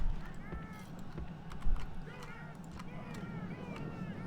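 Mounted horse archers gallop in a Total War-style battle game set in Rohan, a steady faint clatter of hooves under distant battle noise and a talking voice.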